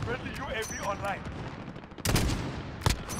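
HDR sniper rifle shots in Call of Duty: Modern Warfare Ground War, with two loud, sharp blasts late on, the second brief and punchy, heard under and after excited talk.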